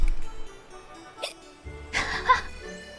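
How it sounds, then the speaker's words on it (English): Abby, a character in the game Wuthering Waves, gives a few short, soft hiccups, one isolated and then a small cluster a moment later, over quiet background game ambience. "Abby has the hiccups."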